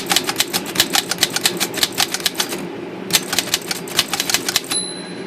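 Rapid bursts of typing clatter on a reconditioned Corona Folding 3 Bank typewriter, close and loud, with a short pause near the middle, then more keystrokes and a bright bell-like ring near the end.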